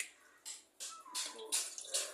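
Water poured into a pan of egg curry, arriving in several short splashy bursts separated by brief pauses, close and fairly soft with no talking.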